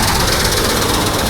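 A wheat harvesting machine runs in a field, giving off a loud, steady, dense mechanical roar and rattle with no pauses.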